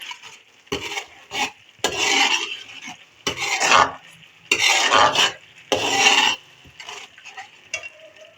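A spoon stirs korma masala frying in a pan for egg korma, making repeated bursts of loud scraping and sizzling, with short pauses between strokes and no talking.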